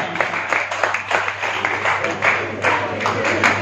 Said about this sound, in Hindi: सुमित भाई के लिए तालियां।